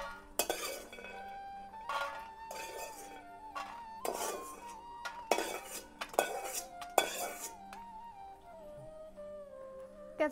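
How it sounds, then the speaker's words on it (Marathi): Peanuts are roasted in a kadhai with a spoon, giving repeated close scraping and clinking strokes in irregular bursts, over a faint steady tone in the background and no talking. "शेंगदाणे चांगले भाजून घेते"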